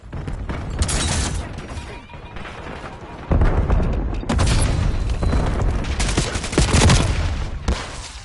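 Skewer airstrike explosions in a Call of Duty video game, a barrage of loud booms and rapid gunfire bursts rolling in heavy waves, with a sharp blast arriving partway through.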